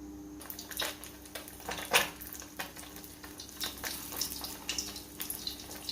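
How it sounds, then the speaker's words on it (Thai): Snakeskin gourami fried in hot reused oil, a steady sizzle and crackle with a few sharper pops and spatters, heard close and alone without talk. "น้ำมันร้อนเราก็ใส่ลงไปค่ะ ทีนี้ก็ทอดไปเลยนะคะ"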